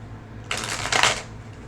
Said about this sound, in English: Let me shuffle real quick.